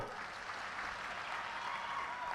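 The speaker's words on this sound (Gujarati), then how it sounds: "અરવિંદ કેજરીવાલજી માટે એકવાર તાળીઓ થઈ જાય મિત્રો" Faint, distant applause from a crowd at a political party workers' booth conference in Vadodara, cheering for Arvind Kejriwal, a steady wash of many hands clapping heard from afar.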